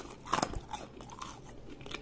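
Crisp crunching bites into a crunchy fried egg snack with a firm shell and egg inside, a few close, sharp crackles followed by softer chewing, with no talk over it.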